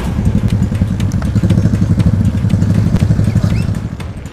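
A motorcycle rides a short rural route between a district centre and a village in Tobadak, Indonesia, over a muddy, damaged road, its engine loud and close with a steady mid-pitched drone, constant rattling and thuds from the rough surface.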